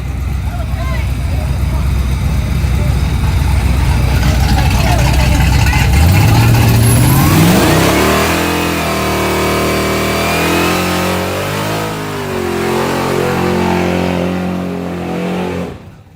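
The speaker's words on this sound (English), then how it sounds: "it's that truck I like" A truck drives past outdoors, its engine a loud, close rumble that revs up and shifts in pitch as it goes by, while a person talks over it.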